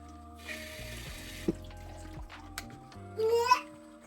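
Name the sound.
washing eggs under running tap water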